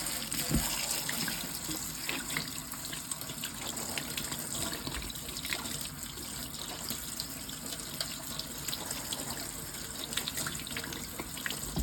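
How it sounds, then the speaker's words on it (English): Drained canned black-eyed peas rinsed under a running kitchen tap, a steady close rush of water with light splashing and rattling throughout, no one speaking. "So just get that drained. We're going to rinse it also."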